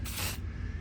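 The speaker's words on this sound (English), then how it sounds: "continue to spray this down" Spray paint hisses onto the upholstery of a car seat in a 2001 Mirage 1.8, one short close burst lasting about a third of a second before it cuts off to quiet room tone.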